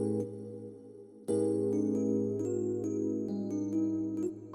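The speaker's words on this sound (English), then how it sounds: "which is another E piano. This one is Modern Hybrid from Lounge Lizard." Modern Hybrid electric piano preset from Lounge Lizard playing sustained chords, with a brief pause before a fuller chord enters and a few lighter notes layered on top, heard alone.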